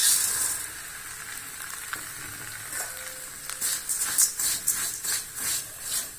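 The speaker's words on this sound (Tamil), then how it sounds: "அவலை நெய் ஊற்றி வறுத்தரலாங்க" Flattened rice (aval) roasting in ghee in a pan, a quiet steady sizzle with a run of soft stirring scrapes and rattles building toward the end, with no talking.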